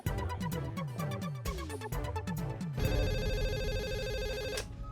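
A telephone rings loudly with a repeated electronic ringtone, quick pulsing tones running for several seconds before shifting to a steady sustained electronic tone.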